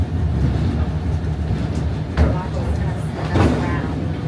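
Locomotive on an 1851 railway turntable, a low rumbling mechanical drone with a couple of louder clanks, heard under a man's speech.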